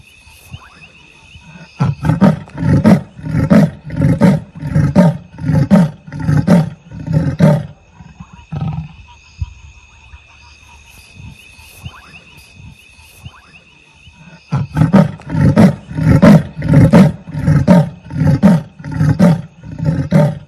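A leopard roars near a village on the outskirts in a phone recording, giving a loud, close series of rhythmic rasping grunts in two bursts with a quieter pause between.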